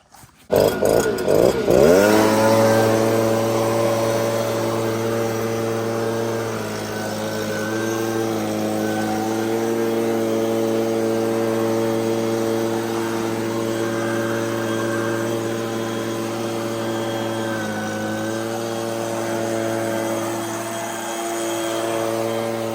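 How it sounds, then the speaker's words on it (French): A steady, loud mechanical whine with droning tones from an air blower cleaning under a combine harvester's conveyor, running continuously after a brief start-up, holding level throughout. "Maintenant, un petit coup de souffleur sous le convoyeur."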